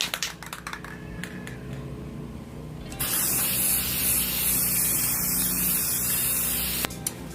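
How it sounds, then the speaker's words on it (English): Silver spray paint hisses from an aerosol can onto a tray in a steady, close spray lasting several seconds after a few light clicks and taps, with no talking. "now we're just going to spray paint it with our same silver spray paint"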